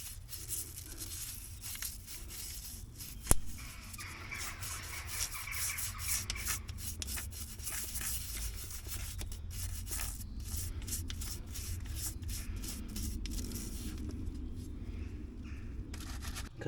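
Continuous soft rubbing and scrubbing while the inside of a Ford Mondeo Mk4 front hub knuckle is cleaned with brake fluid, close and fairly quiet, with a single sharp knock partway through.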